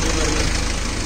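A Mahindra Novo 755 DI tractor pulling a Lemken MB plough in medium gear, its engine a loud, dense, steady rumble that fills the whole short stretch, with a voice faintly under it.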